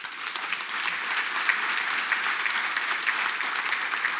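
An audience applauds the Rancas community with a steady, even wash of many hands clapping, moderately loud and sustained throughout, with no talk over it.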